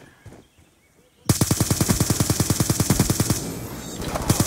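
A sentry gun in Black Ops 2 opens up after a quiet lead-in, firing a rapid, evenly spaced automatic stream of loud shots that runs to the end.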